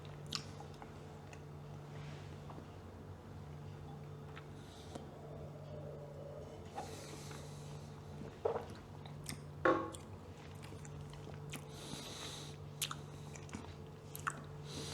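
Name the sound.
eating a piece of chocolate with wine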